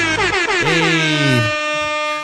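A blaring air horn blast drops in pitch and fades over about a second and a half. A short spoken exclamation comes just before it.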